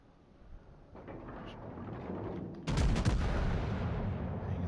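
Main guns of a battleship firing in World of Warships, with a rising rumble that breaks into a loud, heavy boom of gunfire partway through and sustained roaring after.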